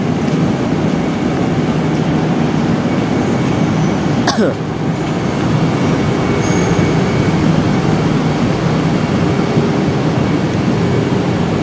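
The Soekarno-Hatta airport train, run by PT KAI Komuter, rolls along with a loud, constant onboard rumble, a sharp wheel squeal near the middle and a faint cough.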